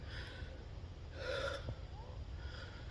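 After climbing a steep, tree-covered slope near Neskowin State Beach, someone gasps and breathes heavily, a few ragged breaths close to the mic over soft wind and outdoor hiss.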